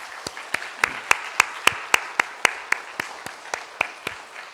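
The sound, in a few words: church congregation applauding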